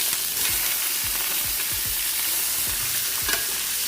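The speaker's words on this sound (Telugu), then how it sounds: "ఈ పంచకాయ ముక్కలన్నీ కూడా దీంట్లో వేసేసుకొని వేయించుకోవాలి" Raw jackfruit pieces fry in ghee and oil in a pan, a steady close sizzle with repeated scraping stirs of a spoon through the pieces.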